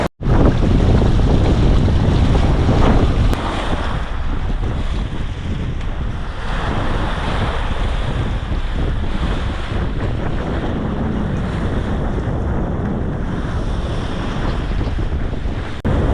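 Wind and waves on the open ocean aboard a sailboat beating slightly into a south-southwest wind in the Gulf Stream between Florida and the Bahamas: steady loud wind rush buffeting the microphone over continuous sloshing water, with no talk.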